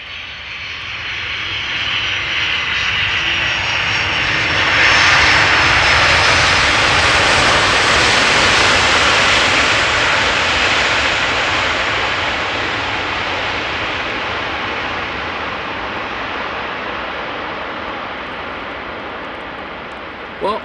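A Boeing 747 airliner roars loudly at Amsterdam Schiphol Airport in the rain, a broad sustained engine rumble and whine that swells to a peak midway and then slowly fades, with no talk heard.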